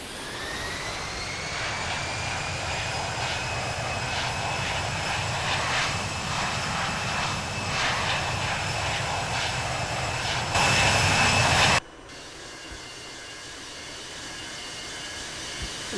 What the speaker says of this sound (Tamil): டேக் ஆஃப் த்ரஸ்ட் செட் பண்ணி ஃப்ளை பண்ணலாம்.